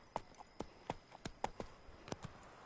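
Hooves of Roach, Geralt's horse in The Witcher 3: Wild Hunt, clip-clopping in a steady walking rhythm of sharp, fairly close knocks, about a dozen beats with no talking.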